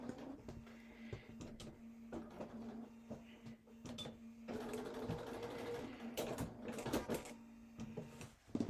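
A sewing machine stitches a holiday placemat in short bursts, its mechanical whir and ticking needle clatter close by, ending with a few sharp clicks as it stops.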